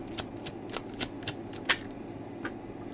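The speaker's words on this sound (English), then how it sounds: "Keep dropping my cards." Tarot cards shuffled and handled at close range, a quiet run of crisp riffles and snaps spaced irregularly, one sharper flick midway, with no talking.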